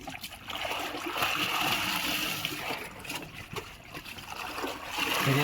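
Plain water splashes and trickles while sarees that bleed colour are washed in a tub, a soft continuous pouring and sloshing at close range.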